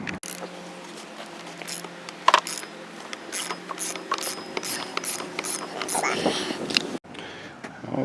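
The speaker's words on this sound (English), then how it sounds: "we just keep tightening this. It'll push off the shaft of the pulley, and then the pulley will come off." A pulley puller is tightened to push a pulley off its shaft, giving a close, steady run of rapid ratchet clicks and mechanical grinding, with a voice talking over part of it.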